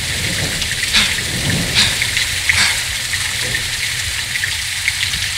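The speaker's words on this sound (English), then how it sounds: "It's raining fucking hard." Heavy rain pours steadily in Call of Duty: Modern Warfare 2, a dense loud hiss of downpour with a few low thunder rumbles rolling in under it.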